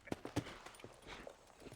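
Horse hooves clip-clopping in the Red Dead Redemption video game, a few sharp uneven close hoofbeats followed by softer steps.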